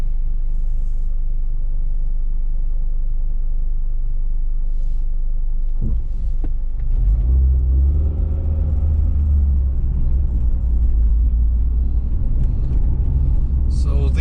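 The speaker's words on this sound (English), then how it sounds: "this street is very busy with traffic." Busy daytime street traffic in central Kyiv, a steady low rumble of cars and buses passing nearby, swelling louder midway as heavier vehicles go by, with a voice talking faintly in places.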